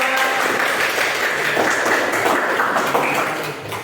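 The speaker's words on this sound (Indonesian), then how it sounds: "tepuk tangan dulu" Students in a classroom clap together in a dense, sustained burst that tapers off at the end.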